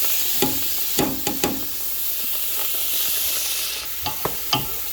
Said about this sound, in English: we're just gonna stir the onions around